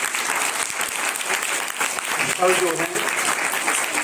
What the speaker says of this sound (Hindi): उनके लिए एक बार जोरदार ताली बजा दीजिए